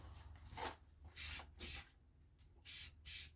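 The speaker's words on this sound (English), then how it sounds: "Then I'm gonna shoot another coat on it." A spray gun laying a coat of paint during a backhoe loader rebuild, four sharp, loud bursts of hissing spray in an even rhythm, with faint softer hissing before them and quiet gaps between.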